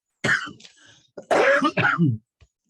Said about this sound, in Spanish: Me van a tener que ayudar a leer porque sí me está dando mucha tos